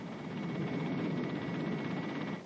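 A Lockheed AH-56 Cheyenne compound helicopter in flight gives off a steady, loud rotor and engine roar that holds evenly for the whole stretch, then eases slightly at the very end.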